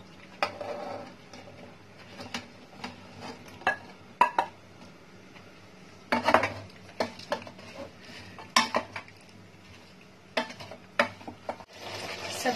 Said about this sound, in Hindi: और सब्जियों को डालने के बाद सब्जी के गलने तक मसाला के साथ सब्जी को हम पकाएंगे